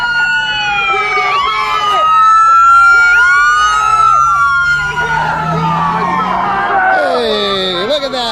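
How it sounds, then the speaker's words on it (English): An ambulance siren sweeps through a street march, its rising and falling wail loud and close over crowd noise and chatter, with a low engine rumble growing as it passes. "Got an ambulance coming through."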